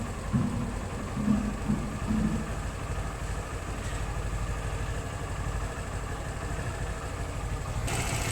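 A Suzuki GR150 motorcycle engine idles steadily during an idle-speed and air-fuel mixture adjustment, a close, even low chugging that holds throughout, with a few light clicks early on.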